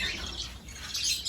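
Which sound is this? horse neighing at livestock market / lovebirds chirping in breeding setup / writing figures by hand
lovebirds chirping in breeding setup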